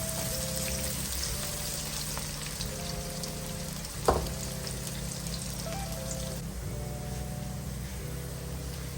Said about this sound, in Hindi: अब मैं इसको लाइट ब्राउन करूंगी, ठीक है। प्याज हमारे ब्राउन हो रहे हैं।